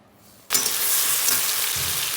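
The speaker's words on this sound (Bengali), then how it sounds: "কড়াইতে এখন পেঁয়াজ কুচি দিয়ে দিলাম।" Chopped onion hits a hot kadai, bursting into a sudden loud sizzle after a brief quiet moment, then frying steadily and evenly, with no voices.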